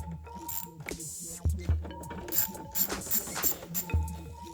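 A wrench works loose a bolt on a Toro Recycler mower transmission, giving close, quiet metallic scrapes, ratcheting clicks and a few knocks that come and go in short bursts.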